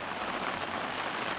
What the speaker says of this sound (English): So as you can probably hear, the rain is back.